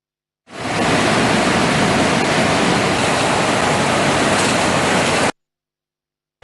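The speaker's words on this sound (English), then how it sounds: "All 10 spill gates of the Parakrama Samudra have been opened for 3 straight days now." Water released through all ten opened spill gates of the Parakrama Samudra reservoir thunders in a steady, dense broadband roar for about five seconds, loud and close, then cuts off abruptly.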